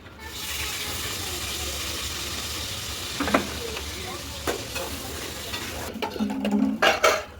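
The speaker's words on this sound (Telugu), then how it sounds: "టమాటా ఉల్లిపాయ పేస్ట్ అయితే వేగింది" Tomato and onion paste fries in a pan for a Nellore-style fish curry, giving a steady close sizzle throughout, with scraping stirs of a spoon and clatters growing busier toward the end.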